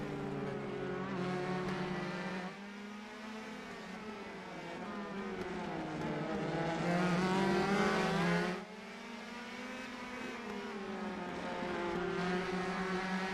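Open-wheel race cars in a racing video game at the Long Beach street circuit, engines droning and revving steadily with shifting pitch as cars run close together, loud and continuous without pause.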